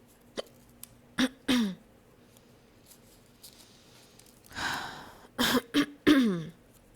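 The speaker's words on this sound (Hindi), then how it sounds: "हिचकी रोकने का तरीका" Hiccups from a woman, several sharp vocal jolts scattered across the stretch, some paired closely, with faint breathy noise between them and no speech.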